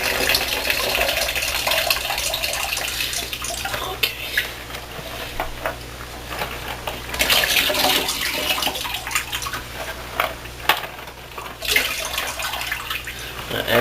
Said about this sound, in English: So I'm gonna dump this out into that sump I have right there that I don't use.